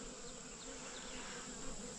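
A steady, continuous buzz of many honeybees droning together at close range around honey supers set out for them to clean, with no voices.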